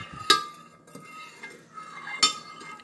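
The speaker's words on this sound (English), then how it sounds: "you're just gonna take a spoon and you're just gonna keep stirring until you no longer feel the granules with the spoon" A metal spoon stirs sugar water in a container to dissolve the granules, giving soft scraping swirls with two sharp clinks against the side, close and alone.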